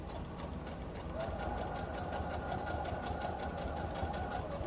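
A sewing machine runs steadily while stitching a holiday bookmark, its fast even needle rattle continuous throughout, close and moderately loud, with no pause for the backstitch.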